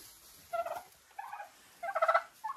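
A Marans hen in a henhouse by the nesting boxes gives several short bursts of clucking, close and fairly clear, with brief quiet gaps between calls and no talk.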